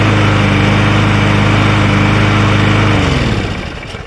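A pieced-together lawn mower with a Powermore/Briggs Quantum engine swap runs loudly and steadily up close, its engine hammering evenly, then winds down as it shuts off near the end.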